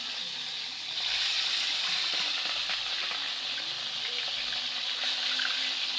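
Galunggong fish fry in a pan with a steady, bright hiss and crackle, a continuous close sizzle with small pops throughout.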